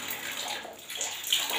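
Hot water runs from a bathroom tap fed by a newly installed gas geyser, a steady close splashing wash of water with no voices over it.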